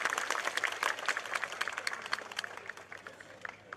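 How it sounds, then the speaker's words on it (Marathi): Rally crowd in the rain at a protest march in Jalna claps hard in a dense, continuous patter of applause, fairly distant and fading slightly toward the end. "आपल्या ताकदीसाठी, आपल्या ध्येयासाठी जोरदार टाळ्या वाजवून स्वतःचं अभिनंदन करा।"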